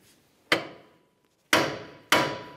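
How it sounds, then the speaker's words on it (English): Three sharp metallic hammer blows on the steering knuckle of a Dodge Dakota during lower ball joint replacement, close and loud, each ringing briefly before fading, with pauses between. "We'll use a little bit of vibration with a hammer to break it free."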